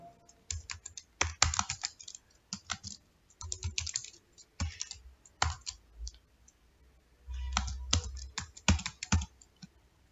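Bursts of rapid typing on a computer keyboard as an image prompt is entered, with close, crisp key clicks in irregular clusters separated by brief pauses.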